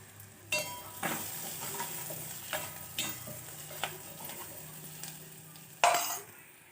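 Food frying in hot oil in a home kitchen pan, with a steady sizzle broken by a series of sharp scraping stirs, one loud clatter near the end; no talking.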